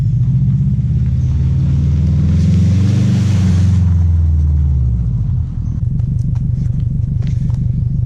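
A stock Subaru WRX rumbles loud and close through a puddle on a rough dirt road, engine note swelling with a broad hiss of water spray before settling into a steady idle-like purr.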